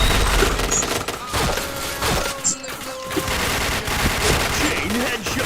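Rapid bursts of gunfire from a first-person shooter video game fill the clip, loud and near with overlapping shots and impacts, while faint voices talk underneath.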